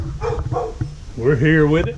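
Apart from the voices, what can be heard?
dog barking, chained dog nearby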